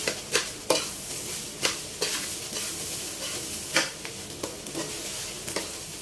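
Rice being stirred in a pan, fried with salt before sardines are added, with a steady sizzle under repeated sharp spatula scrapes at an uneven rhythm, close and unaccompanied by talk.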